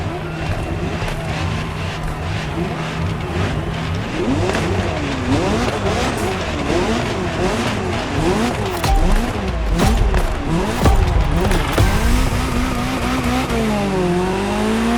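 A Ferrari 288 GTO in The Crew Motorfest, its engine revving hard and rising and falling through gear changes, with tire squeal. The car is loud and close throughout.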